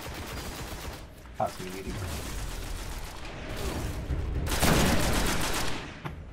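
Gunfire from a weapon in the video game Destiny, a few loud shots and bursts under ongoing game noise and talk, with a heavier blast swelling near the end.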